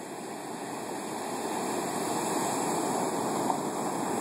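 Big ocean waves from Hurricane Katia's storm surge crash at Mispec Beach outside Saint John, New Brunswick, a loud, steady, broadband roar of surf that builds slightly with wind mixed in.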